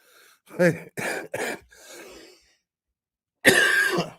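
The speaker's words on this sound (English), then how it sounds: "I apologize for my cough" A quick series of three or four coughs, some rougher breathing, then after a silent pause one louder, drawn-out cough, close to the microphone.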